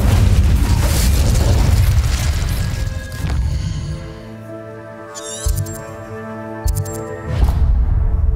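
The Incendio fire spell in Hogwarts Legacy bursts loudly with a roaring, crackling blast that fades into a ringing tail, followed by a few small clicks and thuds and a final whoosh.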